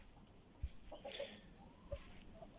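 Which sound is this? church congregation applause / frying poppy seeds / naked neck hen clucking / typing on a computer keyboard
naked neck hen clucking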